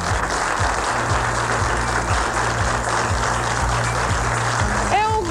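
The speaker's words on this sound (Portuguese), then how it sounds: "Se vocês continuam a bater palmas, eu tenho que falar por cima de vocês" Studio audience clapping steadily on a daytime television talk show, a dense, loud wash of applause that holds throughout, with a voice rising over it near the end.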